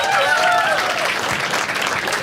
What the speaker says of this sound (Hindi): एक बार इसके लिए ताली बजाओ सब लोग.